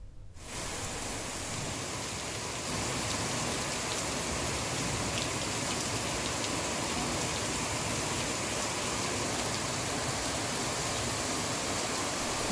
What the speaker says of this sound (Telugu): భాగ్యనగరంలో పలు చోట్ల వర్షం కురుస్తోంది.